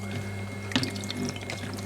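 Water is sponged and sloshed out of a freshly thrown clay mug on a potter's wheel, a brief wet trickling and splashing over a steady motor hum.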